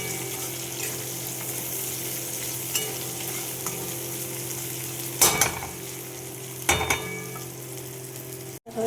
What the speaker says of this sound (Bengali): তো পেঁয়াজগুলো আগে আমি ভেজে নেব